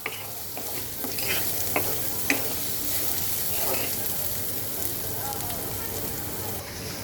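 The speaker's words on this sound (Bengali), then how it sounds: "তো পেঁয়াজটা আগে একটু ভাজা হোক" Onions and green chilies frying in a pan of spiced oil, heard as a continuous moderate sizzle broken by scraping and tapping as a spoon turns them.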